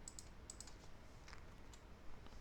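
Someone types on a malfunctioning, lagging computer keyboard, with quick clusters of light key clicks spaced irregularly over a faint steady background hiss.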